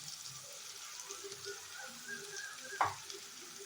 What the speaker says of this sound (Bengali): আর একদমই গ্যাসটা সিমে করে আমি এভাবে একটুখানি কষিয়ে নিলাম।